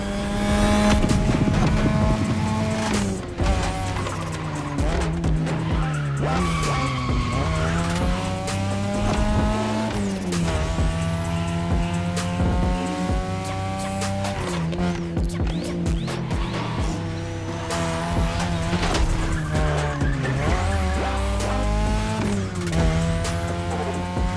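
Race cars drift through mountain touge corners in The Crew Motorfest, engines revving hard and tires squealing in long repeated screeches, loud and close throughout with no voices.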